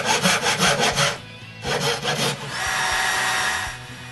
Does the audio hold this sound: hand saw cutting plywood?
yes